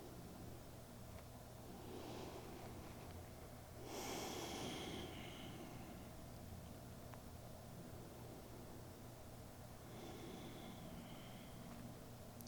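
Slow, steady breathing during a trauma-informed yoga rest, soft drawn-out inhales and exhales rising and falling over a constant hiss of room noise, faint and close.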